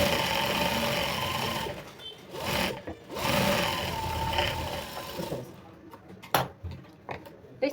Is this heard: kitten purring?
no